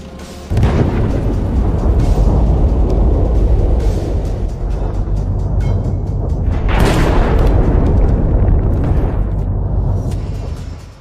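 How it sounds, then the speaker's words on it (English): A Russian tank rolling over a hidden mine erupts in a loud, close blast, with a heavy rumble sustained for several seconds and a second surge of explosive roar midway, no voices present. "until it rolls forward and hits a hidden mine"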